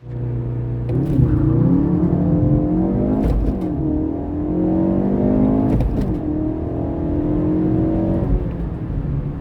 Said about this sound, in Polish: taki próbny start do setki możemy sobie zrobić w sumie